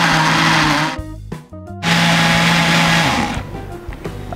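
Blender whirring loudly as it blends a homemade family seasoning mix, running steadily, cutting out briefly near the middle, then resuming and slowing toward the end.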